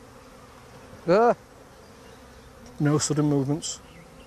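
Honeybees buzz in a steady low drone around an open garden hive, continuing beneath two short bursts of nearby speech.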